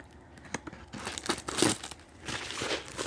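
Plastic packaging being cut open, giving a run of close crinkles and tearing crunches, sparse at first and then dense and steady, with no talking.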